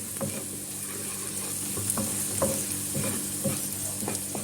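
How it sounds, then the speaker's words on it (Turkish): Mint and red pepper powder stirred into a simmering soup in a pot, a steady hiss with rhythmic spoon scrapes and soft knocks repeating every half second or so, close and moderately loud, no speech. "Hemen şöyle bir karıştırıyorum."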